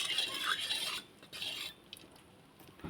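A spoon scrapes and stirs through turmeric and salt in a pan, two short bursts of gritty rubbing close by, then quieter faint clinks.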